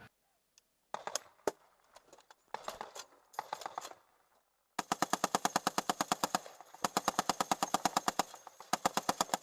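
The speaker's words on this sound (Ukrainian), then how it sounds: "Зверніть увагу, по машині б'ють кулі, а він все одно встає, стріляє з гранатомету" Scattered gunshots crack out as bullets strike a vehicle in combat, then sustained rapid automatic gunfire rattles in long, loud bursts with brief gaps.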